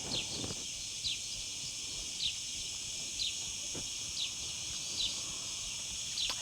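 Cicadas buzz in a steady high drone outdoors during a yoga retreat in Mallorca, with short rising chirps repeating about once a second over quiet background rustle.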